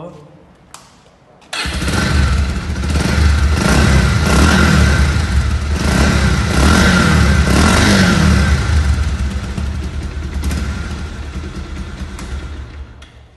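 A Bajaj Pulsar 150cc motorcycle cranks and catches after a brief pause, then runs loud and close with a throbbing idle and several swelling revs before easing back slightly.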